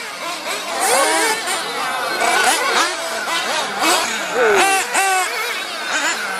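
Several small model race cars whine at high pitch, their engines revving and sweeping up and down as they dart past, a continuous busy buzz throughout.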